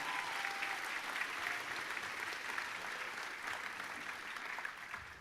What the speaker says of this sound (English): Could we have a round of applause for them?